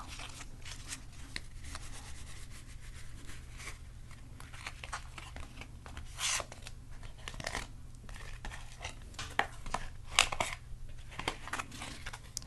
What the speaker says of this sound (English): I do know how to shuffle cards properly, but I think that for our purposes, this is the quieter way to do it.